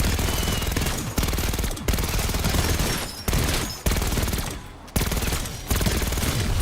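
Sustained bursts of GPMG-7 machine gun fire in Black Ops 6 zombies mode, loud and close, rattling on in long strings separated by brief pauses.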